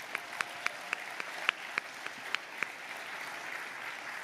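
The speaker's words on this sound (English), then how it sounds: "So give yourselves more applause." An audience at an environmental excellence celebration claps steadily, a dense patter of many hands with a few sharper individual claps standing out, moderately distant and fairly quiet.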